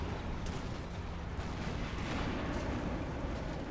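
Battle sounds from the video game Sudden Strike 2, with faint, distant gunfire and artillery rumbling steadily under a dense background roar and a few slightly sharper shots.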